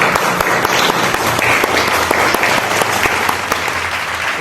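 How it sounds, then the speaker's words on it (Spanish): Dense, steady applause from an audience at a civic presentation about the Eguren family in Barranco, held by La Voz Egurina; the clapping fills the whole stretch at an even level with no voices standing out. "Fuertes aplausos."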